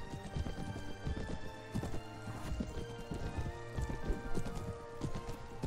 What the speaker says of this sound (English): Oh, my horse is being wounded.